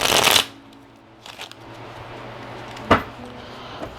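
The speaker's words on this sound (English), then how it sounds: "Let me just give one shuffle here." A deck of cards is shuffled in a quick riffle burst up close during a card reading, followed by quieter handling taps and a single sharp snap.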